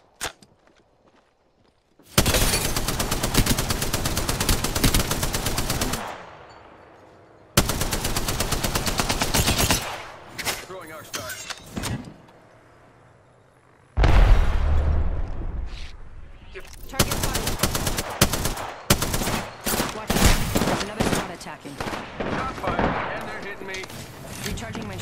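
Gunfire in Apex Legends, Season 5 match: loud bursts of rapid shots in several long runs separated by brief gaps, with game voice callouts around them.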